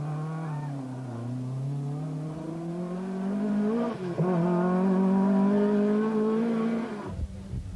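A 15-year-old rally car races through a 1995 Cork rally stage, its engine revving hard with rising and falling pitch through gear changes, loud and close, with a sharp shift near the end.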